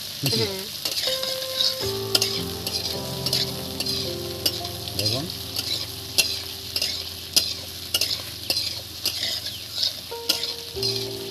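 Bitter gourd and potato fry in a pan while a utensil stirs them, a steady sizzle broken by repeated scraping and tapping strokes up close, with no talk.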